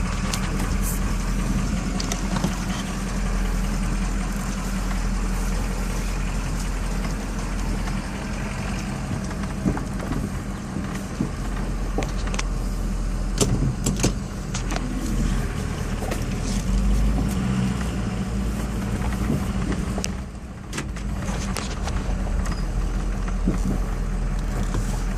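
A Ford 6.0 Powerstroke diesel engine with a suspected fuel pressure issue runs steadily during a road test, its low, even drone continuing close and loud throughout with no talking.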